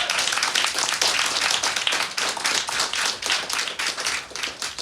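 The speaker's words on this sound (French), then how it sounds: "Tonnerre d'applaudissements pour elle." A crowd at a live awards show claps steadily in thick, continuous applause, dense and even throughout, filling the room without any talking over it.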